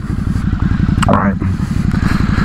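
A Ducati Hypermotard 950 motorcycle is ridden through a turn, its engine giving a close, steady pulsing rumble with a brief rise partway through, while a voice speaks over it.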